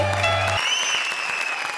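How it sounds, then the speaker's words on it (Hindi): Studio audience applause on a Hindi comedy show stage, loud and steady across the whole moment with a music sting cutting off early, no talk over it. "जोरदार तालियां रक्षांदा और रहमान के लिए"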